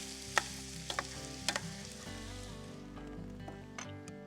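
Rice tipped into a 12-inch paella pan on a grill, crackling in soft, faint bursts with a few scraping stirs over a low steady hum.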